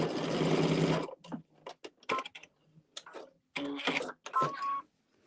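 A sewing machine stitches quilt blocks in a loud continuous run at first, then in short starts and stops with brief pauses, close by, alone without talk.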